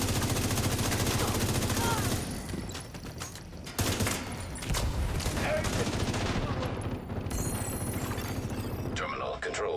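Rapid gunfire from shooting an enemy player in a multiplayer shooter video game, dense bursts of shots that keep up almost throughout, briefly easing near the middle, with game effects mixed in.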